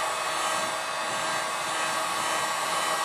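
Hot air blower heating and melting car plastic: a steady, loud, breathy whoosh of blowing air, constant and unbroken, with no speech.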